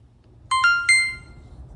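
An Insta360 camera plays its power-on chime: three quick rising electronic tones, bright and clear, over a quiet room background.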